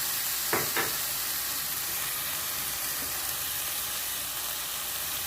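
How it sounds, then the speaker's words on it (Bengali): Spice paste with dry red chili paste frying in oil for a Bengali prawn malai curry, giving a steady, fairly loud sizzle throughout with a couple of brief sharp stirring scrapes near the start. "তেলের সঙ্গে মশলাটা একটু নিয়ে নিচ্ছি দিয়ে দিচ্ছি শুকনো লঙ্কা বাটা"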